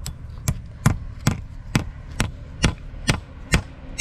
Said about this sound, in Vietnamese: Giờ sẽ đóng đinh vô.